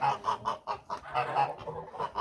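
Geese honk in a quick run of repeated calls, a flock of grey geese with heavy Kholmogory ganders, close and clear with no talk over them.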